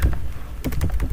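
Someone types on a computer keyboard nearby, producing a handful of quick, soft keystroke clicks over about a second.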